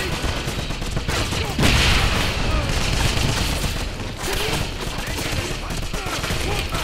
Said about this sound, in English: Who's shooting at me? Really? That machine gun nest seems to have...